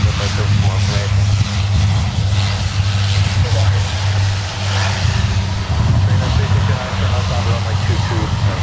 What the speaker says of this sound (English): Apparently UPS maintenance took it to the pad for some engine runs.